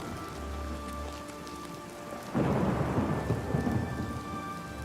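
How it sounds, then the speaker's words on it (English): Steady rain falls in the video game Oblivion Remastered, then a loud rolling thunderclap breaks in about halfway and rumbles on under the continuing downpour. "it's the afternoon, and it's raining"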